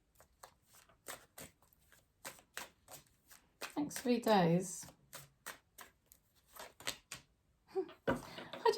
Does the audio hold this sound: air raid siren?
no